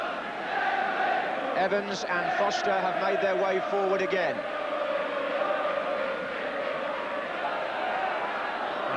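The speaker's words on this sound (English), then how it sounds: "And quite a crowd there." Large football crowd at Aston Villa's stadium during a 1984/85 First Division match against Tottenham Hotspur, a steady roar with a brief swell of chanting beneath continuous commentary.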